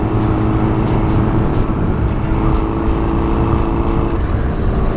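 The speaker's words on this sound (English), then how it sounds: "we can just go through the middle here nice and gently on a motorcycle" Steady, loud engine drone of a Honda CBR600RR motorcycle riding through freeway traffic near Los Angeles, continuous wind and road roar with no pauses or talk.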